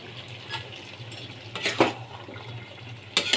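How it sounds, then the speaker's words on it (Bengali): Fried prawns and spices are stirred in a pan with a few close clinks and scrapes of a utensil over a faint sizzle, and a louder scrape near the end. "ভালো করে আমরা এর মধ্যে মিশিয়ে নিচ্ছি"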